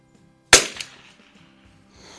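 A single sharp rifle shot from a Remington 513-T with a Tasco scope cracks at an outdoor range, followed by a brief echo and quiet ambience.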